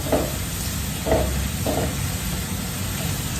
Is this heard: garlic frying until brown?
yes